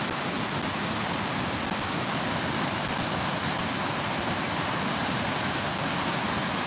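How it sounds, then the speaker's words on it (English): Water of the Milwaukee River flows in a constant, loud, broadband rush with no breaks, close by and alone without voices. "this is part of the Milwaukee River"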